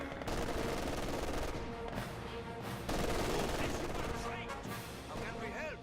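Heavy machine gun fire in the video game Company of Heroes 2, dense rapid bursts and battle noise that continue throughout, loud and mixed with game music and other combat sounds.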